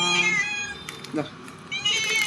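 A house cat meows in drawn-out, harmonic cries at the start and end, with a brief voice-like sound between them, close and clear.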